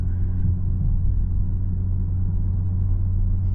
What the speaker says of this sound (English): The car sounds amazing too.